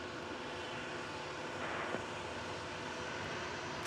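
Alaska Airlines all-Boeing airliner at Dallas/Fort Worth Airport, a steady broadband engine roar holding at a constant, fairly distant level for the whole stretch, with no one speaking.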